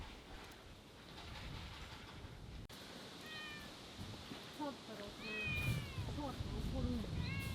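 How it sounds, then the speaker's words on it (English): Several cats meow repeatedly at a shrine in Kyoto, their rising cries close and clear over steady outdoor background noise, growing busier toward the end. "Other than that, there were many cats here."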